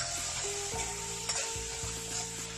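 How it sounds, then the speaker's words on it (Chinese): Spareribs stir-fried with mushrooms and dark soy sauce hiss and sizzle steadily in a hot wok, with a few clanks of the spatula scraping and tossing partway through, close and moderately loud. "放入炒菇、老抽调盛，继续煸炒"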